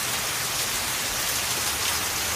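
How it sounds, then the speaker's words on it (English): Heavy rain pours down in Florida, a dense, steady, loud hiss of drops with no pauses and no voices. "Heavy rain."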